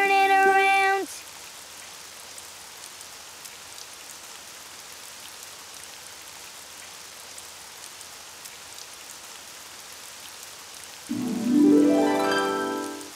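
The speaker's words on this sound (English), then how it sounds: "Oh, it's raining outside." Steady cartoon rain hisses softly outside for most of the stretch, a flat, even patter framed by short bursts of music at the start and end.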